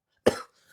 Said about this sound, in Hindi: थोड़ा सा खांसी हो रखा है।